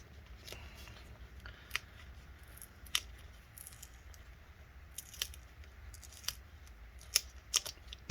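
Adhesive tape peels away from a part inside a Lenovo Yoga 710-15IKB laptop, giving soft, irregular crackling tears and small clicks, close and quiet, with no talking.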